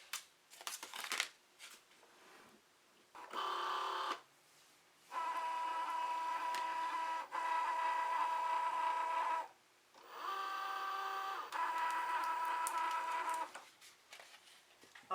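Cricut Joy cutting machine slicing Dollar Tree vinyl on a mat, heard as steady close motor whirring with tonal hum in several long runs, separated by brief pauses and short carriage movements.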